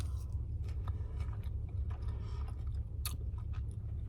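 Crunchy potatoes seasoned with pepper and onion salt being chewed close up, a steady run of crisp bites and mastication sounds over a constant low hum, with no talking.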